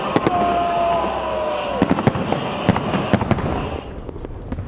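New Year fireworks over the Acropolis of Athens pop and crack in scattered sharp bangs at a distance, ringing out above a continuous, dense background roar.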